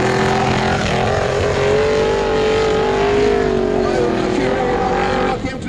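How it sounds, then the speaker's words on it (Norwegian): Off-road racing car Termination X roars on a Formula Offroad track in Mysen, Norway, with a loud sustained engine whine rising and falling in pitch, and a commentator's voice underneath. "Kim Knudsen og bilen Termination X."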